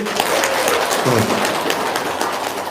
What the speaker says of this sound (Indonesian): Ya, tepuk tangan dulu Pak Haji Dwi